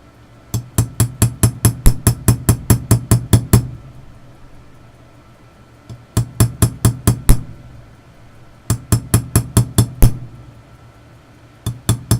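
A Waltham watch balance staff rivet is spread on a Boley lathe with fast, bright metallic taps in runs of about ten to twelve. Brief pauses separate the runs while the piece is turned, and the tapping is close and crisp.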